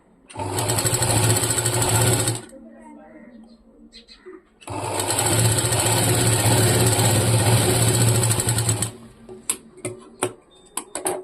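A sewing machine stitches fabric for a garment front panel in two long, steady motorized runs with a short pause between, followed by a few sharp clicks; a voice speaks faintly in the gap.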